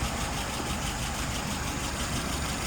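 A classic car engine, a W0 596S, idles at about 660 rpm, giving a steady, close, even rumble that holds unchanged from start to end with no voices over it.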